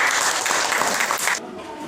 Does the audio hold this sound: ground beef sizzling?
no